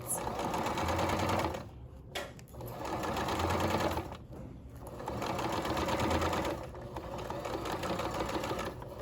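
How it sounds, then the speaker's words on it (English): A sewing machine runs steadily as it topstitches and back stitches a sample, its close, even whir broken by two short pauses, with no voice over it. "Go all the way to the end and back stitch"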